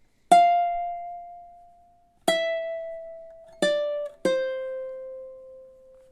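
A ukulele plays a few slow notes of a melody from The Legend of Zelda: four plucked notes, each ringing out and decaying, clear and close, with no talking.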